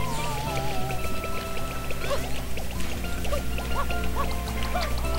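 Ducks quack in the video game Super Mario Sunshine, short nasal calls scattered over busy, steady game music and sound effects, with no voices.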